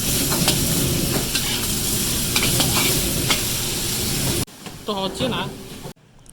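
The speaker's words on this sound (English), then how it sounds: "Black pepper. Stir fry a little bit." Black pepper beef, seasoned with salt and pepper, sizzles loudly in a pan with steady scraping and stirring for several seconds. The sound then drops to quieter frying, with a short spoken voice near the end.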